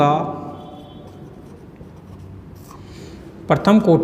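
Chalk or marker writing on a board during a maths lecture on first-order linear differential equations, a steady scratchy stroking heard close, with someone speaking at the start and again at the end.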